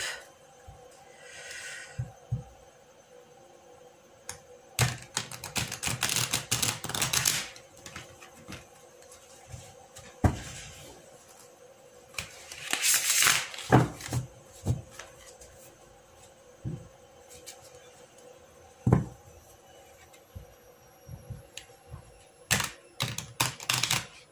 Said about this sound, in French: Peu plus dur à mélanger ce tarot parce qu'il est neuf